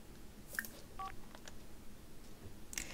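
A few short electronic beeps and tones from a mobile phone in the video game The Sims 4, sparse and quiet over a faint background hiss.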